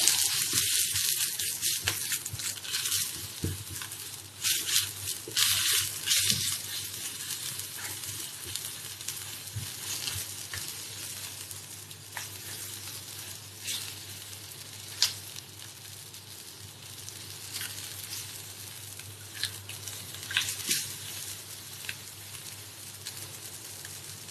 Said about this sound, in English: we put the fish cakes in